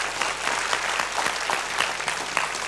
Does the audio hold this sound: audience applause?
yes